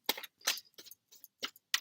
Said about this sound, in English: I'll give the cards a good shuffle.